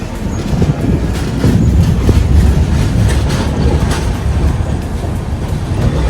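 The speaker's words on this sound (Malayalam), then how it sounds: "നമ്മൾ കോഴിക്കോട് സ്റ്റേഷനിലായിട്ട് ഇങ്ങനെ പയ്യെ കയറിക്കൊണ്ടിരിക്കുകയാണ്." A train rumbles steadily at low pitch, slowly entering Kozhikode station, with faint clattering and rolling noise throughout.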